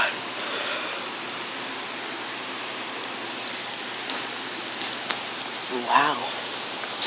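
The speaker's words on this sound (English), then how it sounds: "Wow. It's a lot of rain." A heavy rain shower pours steadily over New York City, a dense, even hiss of falling water with occasional louder drips and splashes close by; a faint voice briefly rises in the background.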